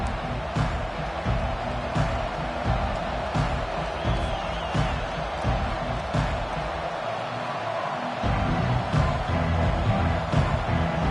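A stadium crowd at a Clemson football game keeps up a dense, steady roar of cheering, with a game commentator talking over it for most of the stretch.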